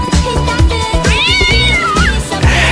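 Cat meow samples fill a dance track: loud, repeated meows and one long, wavering yowl sit over a thumping electronic beat and bass, with no talk.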